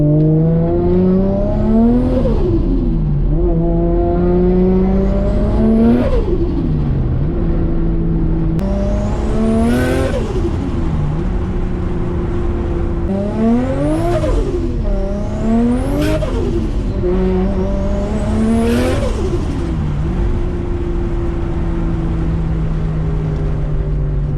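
A turbocharged RB25DET engine in an R33 car revs, rising and falling in repeated pulls, each followed by a fluttering turbo and external wastegate release, loud and close, with a steady low drone throughout.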